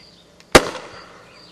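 An airsoft 40mm projectile grenade shell fires with gas in one sharp, loud pop, then a short fading hiss and tail with no talk.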